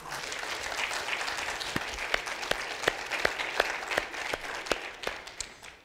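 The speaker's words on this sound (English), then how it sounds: "I think it'd be appropriate if we give our choir one more round of applause this morning." A church congregation applauds the choir at an Easter Sunday service, a dense, sustained round of many hands clapping at moderate volume that carries on steadily for several seconds before starting to thin.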